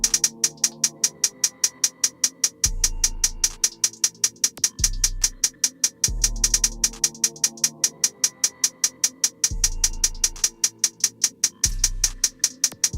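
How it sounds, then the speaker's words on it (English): A hi-hat pattern programmed in FL Studio plays as a fast, steady stream of crisp ticks, with deep booming bass notes landing every second or two beneath it. "I dragged a hi-hat into playlist and created this pattern"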